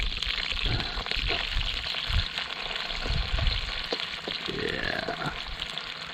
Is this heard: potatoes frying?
yes